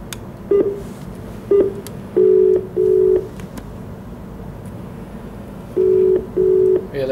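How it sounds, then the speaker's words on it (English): Telephone keypad tones dialing a number through a 2G GSM modem hooked to an Android device: a run of loud, steady beeps, some short and some held longer, in uneven groups over a faint background hum. "I'm dialing the first number"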